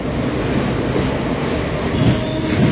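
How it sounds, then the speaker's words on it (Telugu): The Vikram Simhapuri Amaravathi Express pulls out of Nellore station with a loud, steady rolling rumble and a faint wheel hiss that runs throughout, with no talking. "నెల్లూరు నుండి అయితే మన ట్రైన్ అయితే బయలుదేరిపోయింది."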